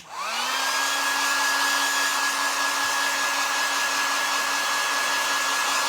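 A hair dryer spins up and then holds a loud, steady whine and rushing airflow close by while drying paint on a cardboard carrot craft, with no talking.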